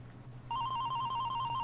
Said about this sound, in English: This time I'm going to say no to the phone call.